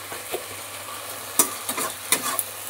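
Okra frying with a little sugar in a pan, a soft steady sizzle under several sharp scrapes and clicks of a stirring spoon, close up and without any voices.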